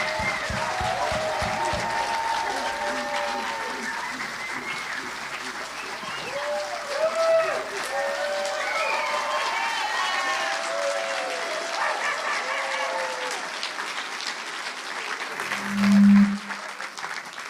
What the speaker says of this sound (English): please join me with a really warm round of applause for David Roche and Marlena Blavin